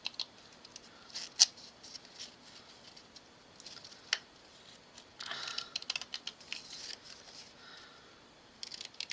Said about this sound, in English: We're going to cut out this postage stamp here.